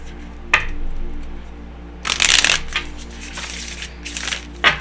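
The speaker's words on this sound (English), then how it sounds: "I'm hearing one more shuffle." A short riffle of shuffled cards near the middle, with a few lighter flicks and taps before and after against a steady low hum.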